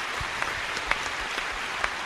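Applause from an audience honoring a maestro at a São Paulo 460th anniversary event: steady, fairly distant, even clapping throughout with a few sharper claps standing out.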